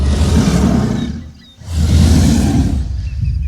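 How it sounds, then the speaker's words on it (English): A Herrerasaurus in the video game The Isle lets out its standard roar, two long, loud, raspy bellows separated by a brief breath, heard alone at close range. "So here's this talk roar. You know, the standard F roar."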